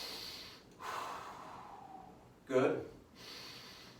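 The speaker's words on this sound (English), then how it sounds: "They don't have to be huge breaths, but I want them to be big enough so that you can hear them" Deep breaths taken while holding a side bridge exercise: two distinct, audible breathing bursts, the second louder, with a brief spoken word.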